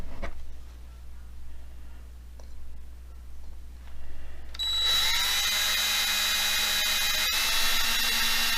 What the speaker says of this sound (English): we're going to go ahead and finish drilling out the post so that we can tap it and get the screws in there